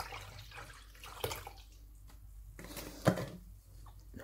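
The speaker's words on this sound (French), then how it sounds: "Alors, on va verser 1 litre de lait." A litre of milk is poured into a pan, a soft, quiet liquid splash with a couple of faint knocks and clinks in a home kitchen.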